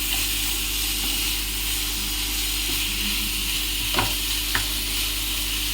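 Onion and grated bottle gourd sauté in a pan for sorakkai adai batter, a steady close sizzle with soft stirring scrapes and a couple of brief clinks near the end, no talk.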